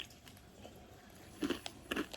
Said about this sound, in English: It's like a hot and crunchy trail mix.